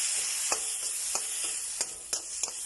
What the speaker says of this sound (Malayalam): ഫ്രോസൺ ചെയ്ത ഫ്രഷ് ഗ്രീൻ പീസ് അതാണ് കൊടുക്കുന്നുണ്ട്. അത് ഇതിൻ്റെ കൂടെ ഇളക്കി കൊടുക്കുന്നുണ്ട്.